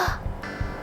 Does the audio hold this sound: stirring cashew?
no